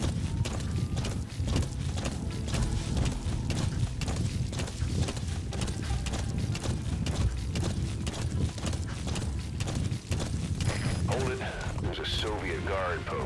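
A horse gallops in the Metal Gear Solid V video game, with a steady rapid clip-clop of hooves carrying loud and close for several seconds and a short snort or whinny near the end.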